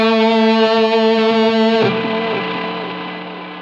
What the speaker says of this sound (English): it boosts the noise, but it also boosts the amount of distortion